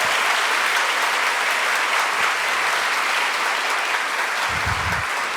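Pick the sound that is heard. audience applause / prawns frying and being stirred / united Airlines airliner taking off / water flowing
audience applause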